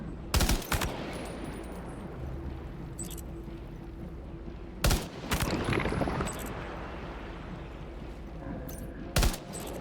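Sparse gunfire in the video game Death Stranding 2, aimed at the sky: a few sharp shots spaced several seconds apart over a steady low in-game rumble, with faint talk in the background.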